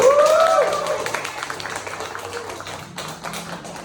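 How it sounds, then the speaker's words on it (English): A small room of Toastmasters meeting attendees claps for themselves, a brief scattered round of applause that tapers off, with a voice speaking briefly near the start. "Can we clap for ourselves?"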